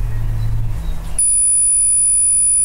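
A multimeter in continuity mode tests a capacitor on a Dell Latitude E5550 laptop board for a short, giving a sudden sustained electronic beep that starts partway through and holds steady, close to the mic, after a low rumble.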